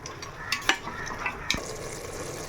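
Mutton with curd sautés in a pan, giving a low steady sizzle with a few sharp scrapes and clinks of a spoon stirring against the metal.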